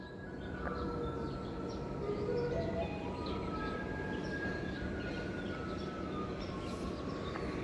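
An E404 electric locomotive pulls a Chu-Kuang express train at a station, its steady low rumble and whine continuing throughout, with faint high tones and chirps above and no speech.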